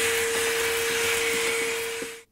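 A vacuum cleaner clearing up mess while an LG/Kenmore washer pulsator assembly is being repaired, a loud continuous whooshing roar with a steady whine that runs close and alone, then cuts off abruptly at the end.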